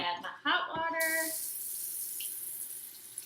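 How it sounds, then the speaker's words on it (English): Hot water pours in a continuous bright splashing stream onto a quarter cup of sugar for water kefir, starting after a short spoken remark and running steadily to the end. "I'm going to add my hot water"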